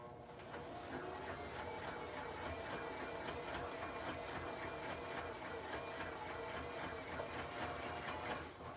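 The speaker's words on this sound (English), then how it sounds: "You hear that noise? That means that my thread up here, because it's a large spool, it got stuck." A sewing machine runs with a rapid, steady mechanical clatter and a faint strained rattle from thread stuck on a large spool, continuous and fairly quiet.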